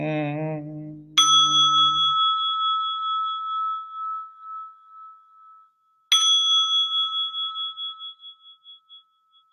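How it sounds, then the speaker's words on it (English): A Buddhist temple bell is struck twice during a dharma talk, each a clear ringing tone that slowly fades; a brief chant-like voice precedes the first strike, and silence fills the gaps. "May the sound of this bell resonate deeply into the cosmos"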